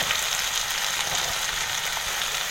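Chopped onion sizzles loudly and evenly in hot oil with garlic, a dense crackling hiss that holds steady without a break or any talk.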